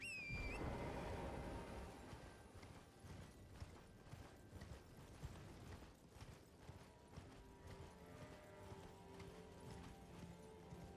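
Horse hooves galloping in the Elden Ring video game, a steady clip-clop rhythm running throughout under dense game music and effects at moderate level.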